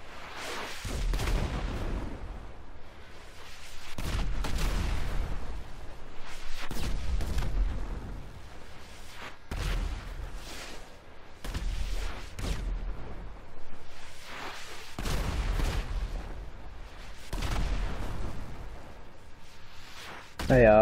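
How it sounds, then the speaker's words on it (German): In GTA V Online, amid RPG fire against an Insurgent, a car explodes among a string of about eight heavy, booming blasts spaced a couple of seconds apart, with people talking between them. "Das Auto ist explodiert!"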